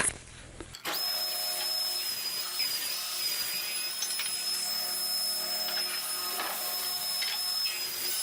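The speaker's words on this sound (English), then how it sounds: "I'll take two 1/32 inch passes off on the thickness planer to true up the faces" A thickness planer takes a shallow 1/32-inch pass off a wooden leg for a garden obelisk trellis, starting abruptly into a steady, loud high-pitched whine and roar that continues with slight fluctuations as the board feeds through.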